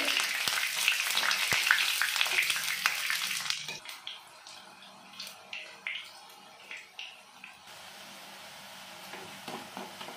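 Malabar spinach fritters fry in oil with a dense, close sizzle at first. The sizzle then drops to quieter crackling with scattered taps and clicks as the fritters are turned.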